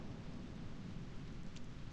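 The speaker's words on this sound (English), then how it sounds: "Why is it raining? Is this actually a storm" Steady rain with a low rumbling storm bed in the video game Reverse: 1999, a continuous wash of falling water and deep thunder rolling underneath at a moderate, even level with no voices.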